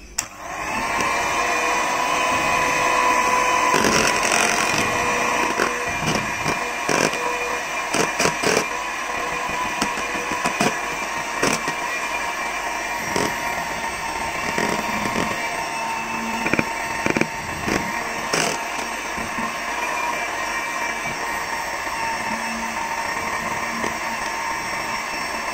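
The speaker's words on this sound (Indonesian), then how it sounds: "Kemudian kita mixer lagi dengan kecepatan rendah." Electric mixer beating steamed pumpkin cake batter at low speed, a steady whirring motor drone running continuously throughout with occasional clatters of the beaters against the bowl.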